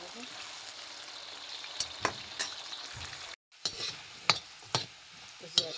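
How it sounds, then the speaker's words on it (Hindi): Potatoes frying in oil in a home kitchen, a continuous close sizzle broken by sharper crackles and stirring clinks, with a brief dropout midway. "ये मैं थोड़ा सा उसके लिए तेल पे फ्राई कर देती हूँ"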